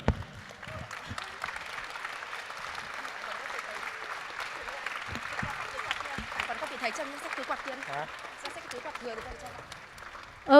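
Applause from a standing audience at the closing ceremony of the 11th GFSS, a steady moderate wash of clapping that holds for about ten seconds, with some voices mixed in.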